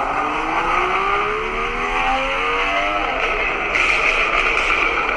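Inline-six car engine revving in a viewer's clip, with rising harmonic engine tones climbing steadily over several seconds, loud and close, followed by a brief higher-pitched burst near the end.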